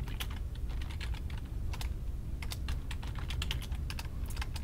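Fingers type on a computer keyboard, a quick irregular run of close key clicks in bursts with short pauses and no talking.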